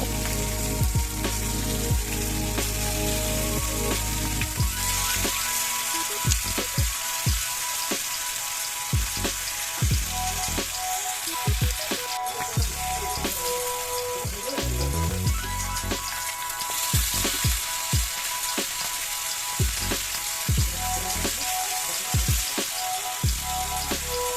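Pomfret fish shallow-fries in a pan over medium to high heat, giving a constant loud oil sizzle with scattered crackles and pops that carries on unbroken.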